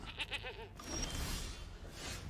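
In MTG Arena, a goat token enters play with a short series of quick, thin bleats, followed by a soft rustling game effect and quiet background tones.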